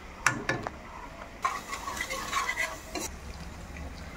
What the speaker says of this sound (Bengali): প্রথমে দেবো একটু হলুদ গুঁড়ো, তারপর একটু নাড়াচাড়া করে নেব।